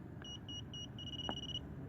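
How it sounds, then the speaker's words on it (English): A handheld TPMS sensor programming tool sounds a string of quick high beeps, three short ones followed by one longer tone, as it reads a sensor at the left rear tire of a Honda Civic in a quiet garage. "As you see how fast that thing beep it up and it pick up the tire."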